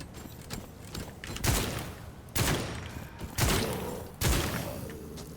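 A shotgun fires in the dark fantasy shooter game Witchfire: four loud, booming blasts spaced about a second apart, each with a short decaying tail, with no talking over them.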